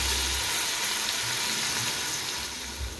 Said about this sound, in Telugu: వీటిని ఫ్రై చేస్తూ ఉండాలి